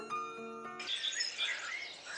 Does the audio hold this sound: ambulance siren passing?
no